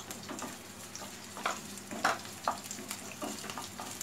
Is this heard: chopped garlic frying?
yes